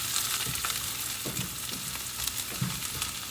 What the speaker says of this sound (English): The smell and the sound of frying onions.